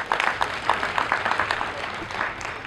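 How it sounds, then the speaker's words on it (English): Students at a Ugandan anti-corruption conference clap their hands, a short patch of moderately loud, uneven applause with distinct individual claps standing out. "Can I hear a hand clap from the students?"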